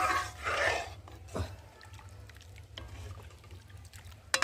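Dried mung dal being stirred and scraped in a hot pan, with a few soft scrapes and light sizzling, one clearer scrape near the start and a sharp tap at the end, fairly quiet and close with no talk.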